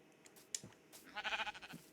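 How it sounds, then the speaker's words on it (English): A Minecraft sheep bleats once, a short wavering cry heard alone and fairly faint after a few soft clicks. "What colour sheep is this?"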